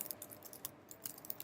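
Someone types on a computer keyboard, with faint, quick key clicks in an irregular rhythm and no voices.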